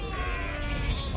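A goat bleats among sheep at a busy livestock market in Kyzylorda, a steady bleating call over constant crowd and animal noise.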